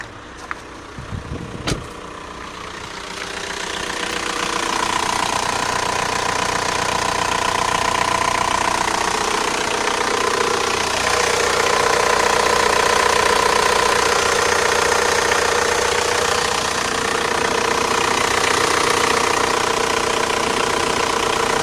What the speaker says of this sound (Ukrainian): Мотор працює нормально.